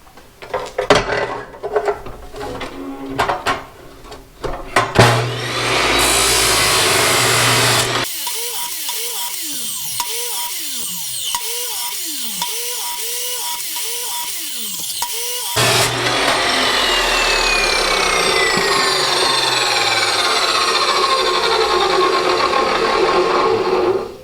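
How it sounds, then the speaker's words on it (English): A power tool chops wooden pieces into snowman arms and 1.5-inch fingers, loud and close, with an irregular burst of cuts and knocks followed by long sustained whirring stretches at steady pitch. "So I'm just going to chop all those off right now."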